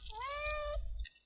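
A single drawn-out cat meow rises and holds for nearly a second, fairly close and clear, followed by a couple of faint rustling taps.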